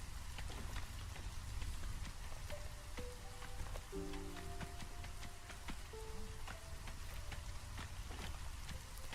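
Steady drizzle in the video game Against the Storm, a soft continuous patter of rain on surfaces filling the whole stretch, with faint musical tones drifting through and no talking.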